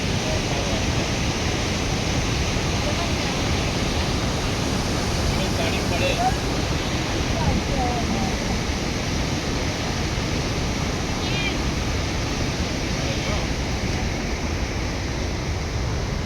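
Evan Engelhart waterfall in Canada, a dense, loud, unbroken roar of falling water that holds steady throughout, with faint voices barely surfacing over it.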